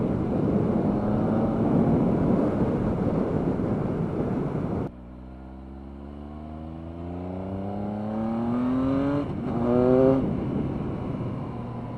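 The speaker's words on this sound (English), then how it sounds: "I am loving the acceleration on this bike." A Triumph Speed Triple RS motorcycle accelerates hard, its loud engine climbing in pitch through several gear changes, close and dominant over rushing wind.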